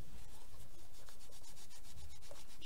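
A surface is rubbed briskly by hand during a crafting session, making a quick run of close, scratchy strokes over about three seconds with no talk.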